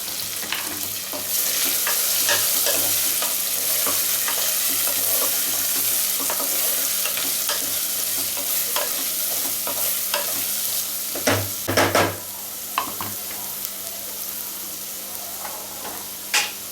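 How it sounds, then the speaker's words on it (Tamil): Onions sizzle steadily in oil in a pan for a quail pepper fry gravy, a constant close hiss with a few stirring scrapes and clinks near the end, no voices. "ஆனியன் சீசனிங் பண்ணிட்டு இருக்கும் போதில் சால்ட் ஆட் பண்ணிக்கோங்க"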